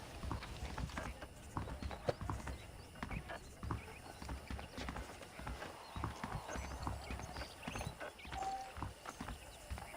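Saddled horses' hooves clip-clop steadily at a walking pace, close by, in the video game Red Dead Redemption, with occasional speech and a faint whinny over ambient outdoor noise.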